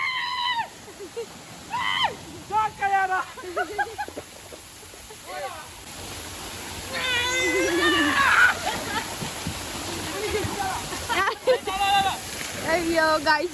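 Water splashes and sloshes at a water park, steady wet churning running beneath excited voices and shouts, growing louder and denser in the middle of the stretch as people play in the water.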